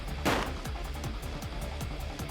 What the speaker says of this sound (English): Then there was a sound. Sounded like a gunshot.